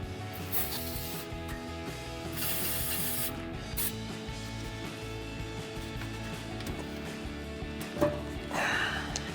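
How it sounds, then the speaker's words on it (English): Short bursts of aerosol lubricant spray onto the rubber exhaust isolators of a RAM 1500 muffler, several hissing blasts separated by pauses, with faint scraping and handling noise between them. "we're going to spray down our last 2 rubber isolators, and then we're going to pull the muffler from our mid-pipe"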